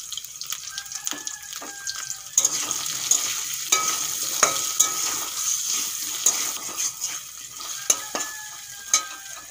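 Drumsticks (sajne data) with potato, tomato and brinjal frying in a pan, a steady close sizzle with scattered stirring scrapes and clinks of a utensil against the pan throughout, no talk.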